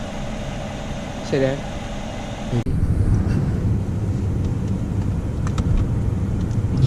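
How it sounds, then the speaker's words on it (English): A Mercedes-Benz S550 4MATIC engine runs at a steady low rumble, close and fairly loud after a sharp cut, with a person talking briefly over it. "So, for the engine of the Mercedes-Benz S550 4MATIC,"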